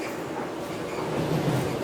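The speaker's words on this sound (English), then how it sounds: "another train going past in the opposite direction" A train passes in the opposite direction on a light rail line heading for Tower Gateway, giving a brief, moderately loud rumbling whoosh that swells slightly toward the end.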